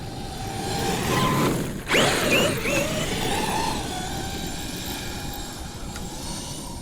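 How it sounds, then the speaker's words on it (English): A Traxxas RC truck is driven at full throttle, its electric motor giving a continuous loud whine with a sharp surge partway through, then a sustained high-speed drone that eases slightly toward the end. "So that was like full throttle, man."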